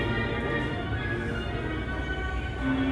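Steady rumbling roar of a train moving along the tracks in Woodhaven, Queens, New York City, continuous and fairly loud, with faint tonal squeals on top and no talking.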